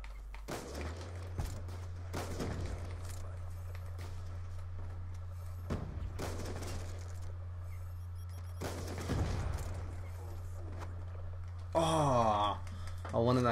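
Gunfire in a shooter video game comes in several sharp bursts spaced a few seconds apart over a steady low hum, with a busier, ringing stretch near the end and some voices in the background.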